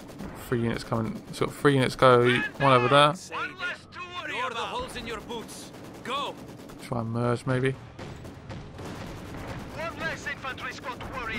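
Gunfire and explosions crackle in the Company of Heroes 2 battle, scattered bursts sitting underneath frequent talking that dominates the foreground.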